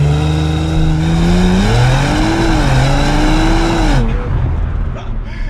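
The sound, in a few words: Audi RS4 Avant 2.9 litre V6 engine accelerating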